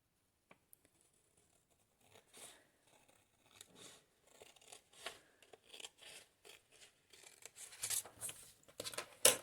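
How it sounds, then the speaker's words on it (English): Scissors snip through paper envelope flaps in a run of short crisp cuts, starting sparse and quickening into rapid, louder snips near the end, close up and without speech. "I'm going to cut these flaps away"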